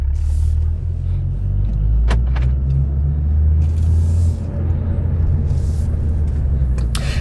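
A manual Cadillac CT4-V Blackwing pulls away from a stop, its engine a loud, steady low rumble heard from inside the cabin, with a few brief clicks and knocks from the controls.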